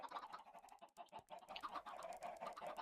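Chickens in a Minecraft automatic chicken farm, a cluster of soft overlapping clucks and clicky pecking chatter, fairly close and continuous at low level with no voices.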